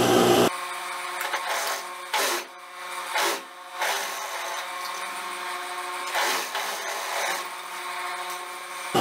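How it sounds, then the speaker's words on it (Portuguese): Sewing machine stitching a dress pocket lining in short bursts, the whirring runs separated by brief pauses, fairly close and with no talking. "Agora eu vou vir aqui para costurar o forro do bolso."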